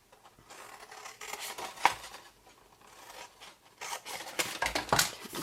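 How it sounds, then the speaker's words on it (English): Scissors cut through a cardboard Yankee Candle jar candle box along its score line, producing close, rasping snips and scraping rubs in uneven bursts with small handling clicks between cuts. "So cut away that edge piece and then cut straight up the score line."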